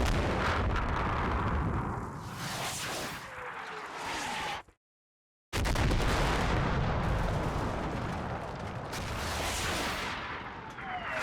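Dragon anti-tank missile fire in Combat Mission: Cold War, heard as loud booming battle blasts with rumbling and scattered gunfire, broken by a short silent gap before the heavy combat noise resumes.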